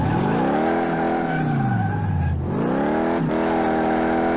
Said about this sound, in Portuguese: Olha o ronco desse carro, meu irmão